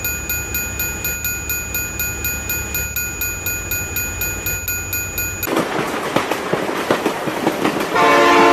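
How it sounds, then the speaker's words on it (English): A train in the BeamNG driving game rolls past with a rhythmic clickety-clack of wheels and a steady horn tone. It then gives way to loud, chaotic crashing and rumbling noise for the final seconds. "Oh my god, train!"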